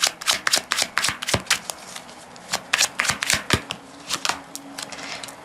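Tarot cards are shuffled in quick bursts of riffling and slapping, close and crisp, with short pauses between rapid flurries and no talk.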